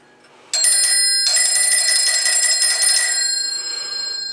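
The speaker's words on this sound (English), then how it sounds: "this is a ringer for an old phone system." Old phone system ringer bell found during a house renovation, bursting into a loud continuous electric ring, briefly pausing, then ringing on steadily before easing slightly at the end.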